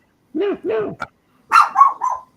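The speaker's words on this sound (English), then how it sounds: "Shut up, you idiot dog." A dog barks close by in two quick bursts, three sharp barks and then a rougher, growly run of three more, with no talk over them.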